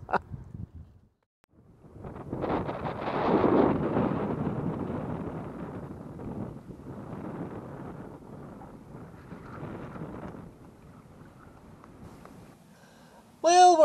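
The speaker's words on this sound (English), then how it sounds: "The wind is becoming a bit less intense. We are getting gusts up to about 30 knots." Gusting wind of up to about 30 knots sweeps over a sailboat at anchor off Northern Ireland, rising into a loud rushing swell and then easing into a softer, uneven blow, with a sharp clunk at the very end.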